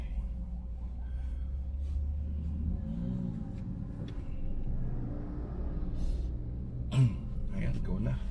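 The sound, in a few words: road traffic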